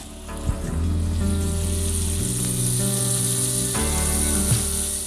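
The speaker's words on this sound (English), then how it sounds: "Our pan is nice and hot. I'm gonna add in like 1/2 tablespoon of butter." Half a tablespoon of butter sizzling in a hot skillet, a loud continuous frying hiss close up with a few soft knocks from the pan, no talking.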